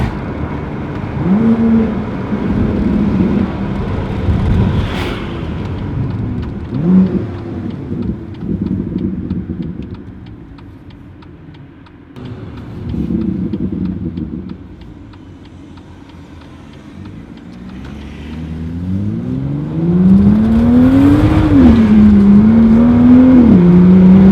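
A BMW M2 with four exhausts revs hard under acceleration, loud, close engine notes climbing through gears with brief drops between shifts and a strong rising pull near the end.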